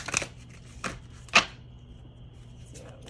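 Tarot cards being shuffled by hand, a few short riffling bursts spaced apart, close and fairly quiet against a soft background hum.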